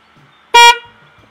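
A car horn gives a single short, loud honk during a vehicle technical inspection check, with quiet background before and after.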